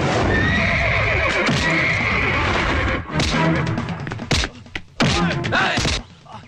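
Several horses neigh and whinny loudly and close, mixed with hoof clops and a few heavy thuds, with no talking over them.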